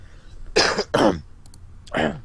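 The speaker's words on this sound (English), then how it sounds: "hold on a second, I have to cough." A few rough coughs, close to the microphone, in quick succession with a short gap before a final cough.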